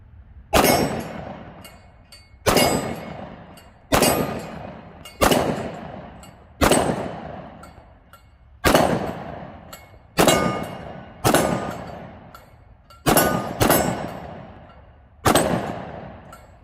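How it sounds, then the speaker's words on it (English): A Springfield XDM Elite 10mm pistol fires hand loads outdoors, eleven loud sharp shots at an uneven pace of one to two seconds apart, each ringing out into a decaying echo, with no talking. "Springfield XDM Elite, 10 millimeter, rocking it so far. Let's see how it does with it, 1150 feet per second."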